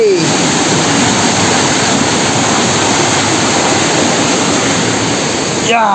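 Waterfall at Langvoku picnic place in Karbi Anglong, Assam, a loud continuous roar of falling water filling the whole stretch without pause.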